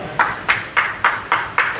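Six sharp, evenly spaced claps ring out at an awards ceremony honouring contributors, each striking broadband burst distinct and moderately loud, the rhythm steady like a slow group clap rather than full applause.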